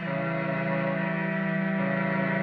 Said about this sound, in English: Put that distortion in there.